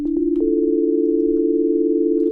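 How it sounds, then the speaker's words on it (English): A steady synthesizer sine-wave tone from the Pigments soft synth sustains for about two seconds, preceded by a few short blips as it starts, clean and fairly loud with no talking. "Okay, so we got a little sine wave kind of thing."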